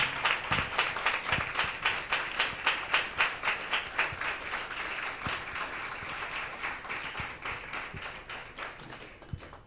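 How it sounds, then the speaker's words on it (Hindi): A church congregation claps loudly in a steady, rhythmic beat that keeps going for several seconds and gradually eases off, with no talking over it. "आइए जोरदार ताली देंगे परमेश्वर के नाम की महिमा के लिए।"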